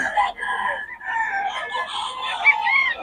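Chickens and roosters belonging to a farm owner, clucking and crowing close by in overlapping calls with a few bird-like chirps, loud and continuous.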